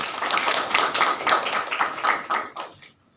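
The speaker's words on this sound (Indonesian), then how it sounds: "Mari kita berikan tepuk tangan terlebih dahulu." Audience applause after a speaker finishes in a panel discussion, a few seconds of brisk, uneven hand clapping from a small group in a room, fading out toward the end.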